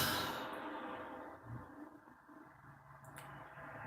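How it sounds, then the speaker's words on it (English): One deep breath, a full inhale released as a long, soft, airy exhale on an "ah" sound during a quiet guided mindfulness practice. It is close and gentle, with no talking. "taking an inhale and exhale with the sound of ah"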